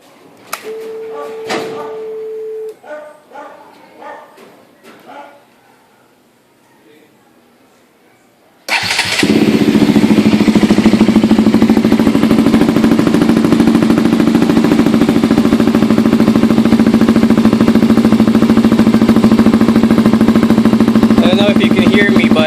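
A KTM Duke 200 motorcycle cranks and fires after some switch clicks and a short beep, then settles into a loud, steady, throbbing idle close to the exhaust.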